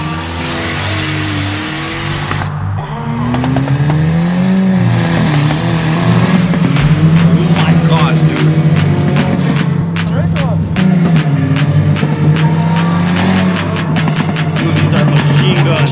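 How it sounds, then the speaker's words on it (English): Boosted Kia engine cranks and fires up on a cold start, then revs repeatedly with loud rising and falling roars and sharp pops. "Time for some cold start action."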